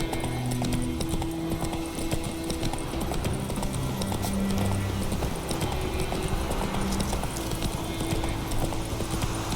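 Horse hooves in The Witcher 3 gallop in a steady, fast clip-clop rhythm throughout, close and loud, with soft game ambience beneath and no speech.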